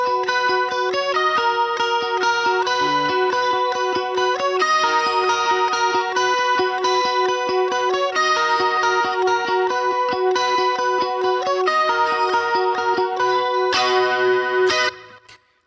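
Clean electric guitar with effects plays the down bridge of a worship song: steady, bright picked notes and chord tones in a continuous rhythmic pattern, close and alone, ending with a brief scrape.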